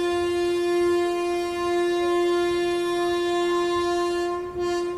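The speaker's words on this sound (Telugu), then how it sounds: "సో మన ట్రైన్ అయితే డిపార్ట్ అయింది, మాండోవి ఎక్స్ప్రెస్" Mandovi Express train departing, with a loud, steady horn-like tone held close and unbroken for several seconds. No voices.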